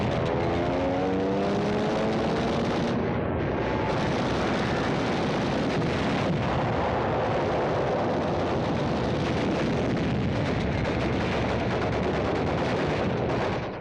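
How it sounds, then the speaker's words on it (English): Gunfire and explosions on the beach at Tarawa in World War II, a dense, continuous barrage of rapid shots and booming blasts, loud and unbroken throughout. "Jap fire pins us down for hours"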